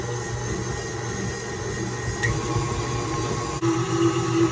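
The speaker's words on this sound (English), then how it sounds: "we're gonna beat this with the whisk attachment until it is good and creamy" A stand mixer with the whisk attachment beats cream cheese and sugar, giving a constant close motor whir with a faint rhythmic churn underneath, steady and without speech.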